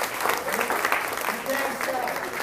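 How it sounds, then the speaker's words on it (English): Applause from an audience at a graduation ceremony during a valedictorian speech, a dense steady wash of clapping with crowd murmur mixed in throughout. "Give a round of applause to me"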